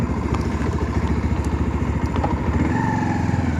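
A 2022 Bajaj Pulsar 150 BS6 motorcycle engine runs close by with a steady, loud, rapid thumping idle and a slight rise in revs near the end.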